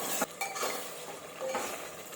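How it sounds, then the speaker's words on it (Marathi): Spice masala roasts in oil in a pan for a Marathi-style crab curry as a spoon scrapes and clinks against the metal, making quiet, irregular stirring sounds over a faint sizzle. "हा मसाला तेल सुटेपर्यंत याच्यामध्ये आपण चांगला भाजून घेणार आहोत"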